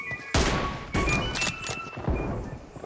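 Gunfire in a mobile shooter game's team deathmatch: several sharp, punchy shots crack over a busy game background, with a couple of bursts close together and another shot near the end.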